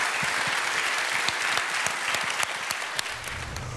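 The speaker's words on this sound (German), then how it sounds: "Und die hat sich jetzt mal einen ganz, ganz großen Applaus verdient." Sustained applause from a studio audience celebrating the winner, Alexandra, on a cruise ship entertainment show, dense steady clapping with a few sharper claps standing out, no voices.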